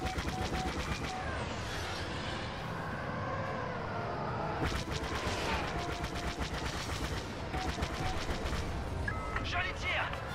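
Star Wars Battlefront squadron-mode gameplay on Xbox One: rapid blaster fire and bursts of laser shots with roaring engines and explosions, loud and dense, with a voice speaking French now and then.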